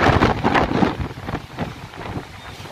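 Strong wind from Hurricane Fiona in Bermuda roars and buffets the microphone in loud, uneven gusts, with no voices heard.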